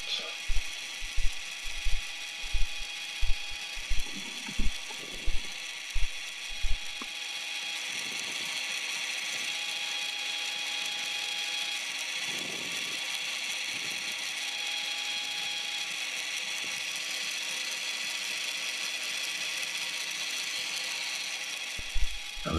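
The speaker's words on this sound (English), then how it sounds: "using a taper reamer to fit the head to the shaft" A taper reamer worked by hand through a 3mm hole, fitting the head of a spherical turning tool to its shaft, gives a run of evenly spaced ratcheting clicks that stop, leaving a steady low hiss.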